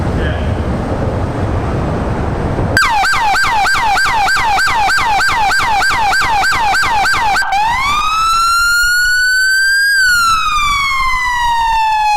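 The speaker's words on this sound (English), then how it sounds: "LT is gonna hit the siren" A loud police siren cycling through modes: a rapid yelping warble, then a rising and falling wail, continuous and close.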